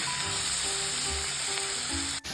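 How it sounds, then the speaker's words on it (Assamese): Tomatoes with salt, turmeric and spice mix fry into a paste in a pan, producing a loud, continuous close-up sizzle, with a brief knock just before it stops. "বিলাহী দি পিনি নিমখ হালধি আৰু মছলা অলপ এনেকৈ দি পিনি ভালকৈ এইখিনি ফ্ৰাই কৰি লওঁ"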